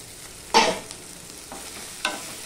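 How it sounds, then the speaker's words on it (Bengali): Tomato, green chili and onion fry in a pan with a quiet steady sizzle, broken by two sharp scraping stirs of the spoon, the first louder than the second. "এবার টমেটো, পেঁয়াজ, আদা তা আমি ভালো করে ভেজে নেব।"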